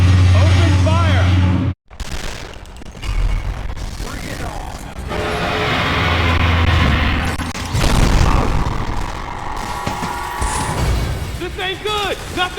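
Metroid Other M on the Nintendo Wii, a boss fight with heavy gunfire, booms and crashing impacts, loud and busy, with voices shouting over the action and a brief silent cut early on.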